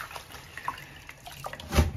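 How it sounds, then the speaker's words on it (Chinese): Rice is rinsed in water in a home kitchen, soft close sloshing and trickling with a brief louder splash near the end. "把这个红饭再洗一下"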